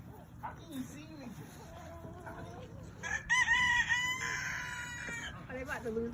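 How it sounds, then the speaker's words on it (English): A chicken clucks and squawks loudly while being chased outdoors before processing. A dog barks and people talk close by. "You look like Mike Tyson or Rocky chasing the chicken"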